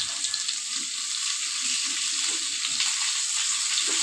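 Mackerel (bangda) fish fries in a pan while being pressed down, giving a continuous close hiss of oil with faint soft bumps from the pressing and no speech.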